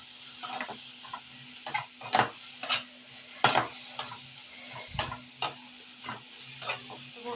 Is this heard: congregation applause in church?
no